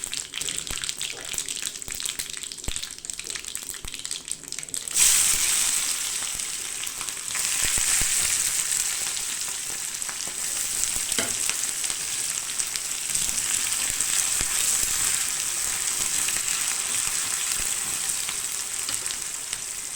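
Mustard seeds, fenugreek and cumin tempering in hot oil, then small shallots dropped in, bursting into a loud, steady hiss of sizzling that continues evenly to the end.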